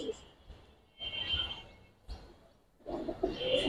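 Giribaz and coloring pigeons coo in two short bursts, near and moderately loud, with someone talking over and between the calls.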